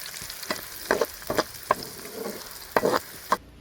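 Curry leaves frying in a pan for chicken jackfruit biryani: short spitting sizzles and scraping stirs come in quick separate bursts, close and fairly loud with no voices.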